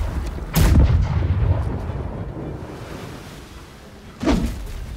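Ship cannons fire a broadside in the naval combat game Blackwake: two heavy booming blasts, one loud near the start and another a few seconds later, over a steady wind-and-sea rumble with no talking.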